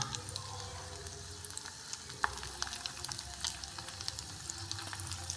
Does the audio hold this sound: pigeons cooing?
no